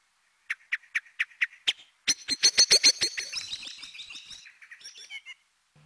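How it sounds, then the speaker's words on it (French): Blackbirds singing at dawn in the Vallée du Goëlo, Ploufragan, Côtes d'Armor: a series of clear repeated notes, then a rapid rising trill of loud close calls trailing into softer warbling. "Les merles s'activent."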